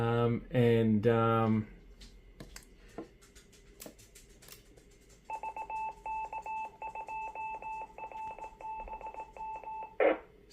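A Yaesu FTX-1 ham radio transceiver keys up a very strong, nearby repeater. A voice talks briefly at first, then a steady, pulsing electronic beep pattern repeats evenly for about five seconds before a short burst at the end.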